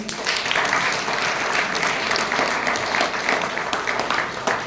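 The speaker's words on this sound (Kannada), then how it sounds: "ಈ ಅಮೋಘ ನೃತ್ಯ ಪ್ರದರ್ಶನಕ್ಕೆ ನಿಮ್ಮೆಲ್ಲರ ಜೋರಾದ ಚಪ್ಪಾಳೆ" An audience at a temple chariot-festival program applauds a Bharatanatyam dance performance with dense, sustained clapping that continues evenly without pause.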